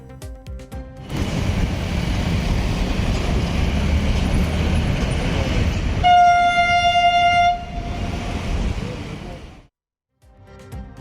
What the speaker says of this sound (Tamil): ஆளில்லா மெட்ரோ ரயில் சோதனை ஓட்டம் வெற்றி